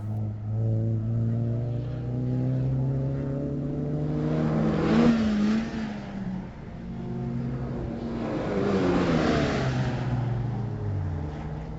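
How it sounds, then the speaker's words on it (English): A silver Mazda MX-5 race car is driven hard around the Hampton Downs track at a sprint event, its engine droning and swelling in pitch through two strong acceleration surges with tyre and wind noise, fairly close and continuous. "Turbo Time Tim in hot pursuit pushes the silver MX-5 to its limit"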